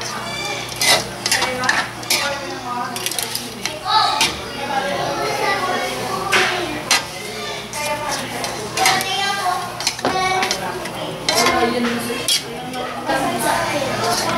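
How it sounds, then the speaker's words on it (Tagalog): Pancit canton noodles are stirred gently in a pan with broth, a steady clatter of utensil scraping and tapping on the metal running under conversation and background voices. "Basta dahan-dahan lang ho ang paghalo para hindi madurog ang noodles."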